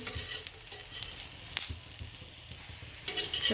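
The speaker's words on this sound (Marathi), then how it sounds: "आता आपण ही वरची बाजू आहे का ती पण अशा खालच्यासारखी तळून घेऊ" Taro leaf rolls sizzle steadily in hot oil, with soft crackling pops and no voices.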